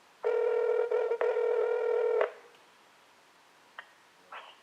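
A phone call ringing through, a steady electronic ring tone sounding in two bursts with a brief break, then cutting off into quiet line noise with a couple of faint clicks.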